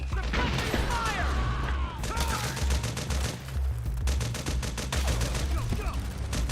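Sustained suppressing gunfire in the PS3 game Metal Gear Solid 4, with dense rapid automatic bursts and heavy low booms, loud and nearly continuous, while shouted voices cut in over the shooting.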